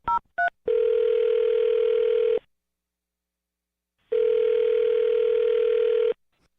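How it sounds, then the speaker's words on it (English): A telephone being dialed: two short tone beeps, then a long steady ringback tone, a pause of silence, and a second identical long ring, loud and clean with no talk. "I'm going to dial her phone number right now"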